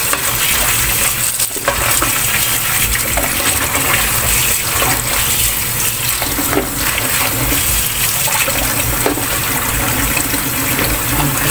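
Milkfish (bangus) being rinsed under running water in a kitchen, continuous loud gushing and splashing with stirring and clinking of the fish against a basin, no voices.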